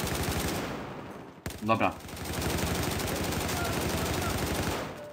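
Battlefield 4 gunfire on the Metro map: dense bursts of automatic weapons fire rattle steadily, briefly cut off, then resume as a sustained barrage, with one short spoken word mixed in.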